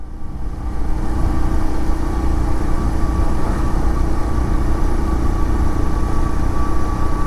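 A Pulsar 125 Neon motorcycle engine hums steadily while riding, a loud, even mid-pitched drone with a constant low rumble and no voices over it.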